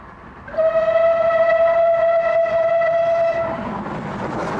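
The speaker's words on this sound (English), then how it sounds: "Clan Line was the first express steam locomotive to work on the North Wales coast since the end of steam" The Clan Line express steam locomotive sounds a steady, loud whistle that holds for about three seconds before fading, with rumbling railway noise underneath and no voices.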